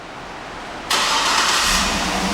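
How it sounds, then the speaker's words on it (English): A 2008 GMC Yukon Denali AWD fires up by remote start: after a quiet moment the engine catches abruptly and settles into a steady, loud, close idle with a brief rev. "the car starts right up"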